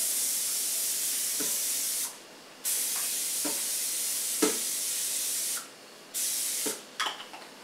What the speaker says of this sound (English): Give a quick spray.